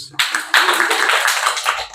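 A group of people claps for a couple of seconds, a dense close patter of hand claps starting abruptly and continuing steadily before fading.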